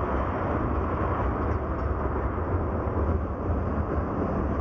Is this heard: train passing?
yes